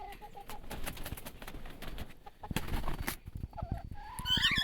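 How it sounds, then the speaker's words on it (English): Newly arrived chickens in a temporary connected cage cluck and chatter close by in a busy, continuous stream of short calls, with scraping and handling noises mixed in. "Our first chickens."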